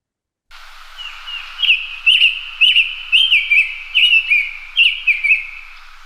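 A summer tanager sings a series of clear, whistled phrases, slow and repeated in a steady rhythm, fairly close and distinct against a quiet forest background in North America.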